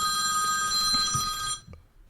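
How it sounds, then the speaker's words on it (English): Old-school telephone ringtone, a bright continuous bell-like ring sounding steadily for about one and a half seconds, then stopping abruptly with a faint click. "that was an old school ringtone."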